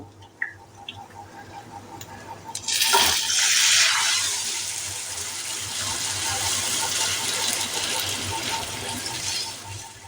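Soaked moong dal with water poured into a hot pan for a moong and pointed gourd dish, a sudden loud splashing hiss that settles into steady bubbling sizzle, close and alone.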